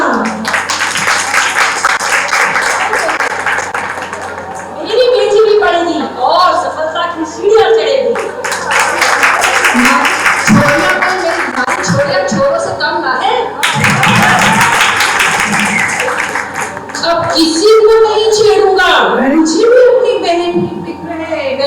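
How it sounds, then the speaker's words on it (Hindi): An audience claps loudly and steadily at a National Girl Child Day honouring ceremony, with dense applause swelling in waves while a voice talks over it. "तालियां।"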